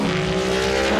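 Le Mans Ultimate race car engine roars loud and steady with a strong, constant harmonic drone and faint tire noise, heard alone without voices.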